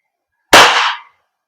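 A WE Glock 17 Gen 5 airsoft gas blowback pistol fires a single sharp, loud crack with a short hissing tail, close by, after near silence.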